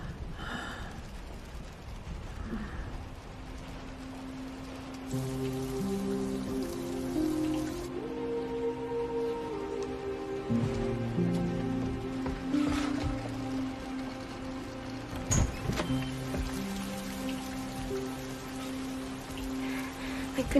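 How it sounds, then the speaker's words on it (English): Steady rain begins falling in a film scene, making a continuous patter beneath tonal music and a quiet breath or gasp. "It's starting to rain."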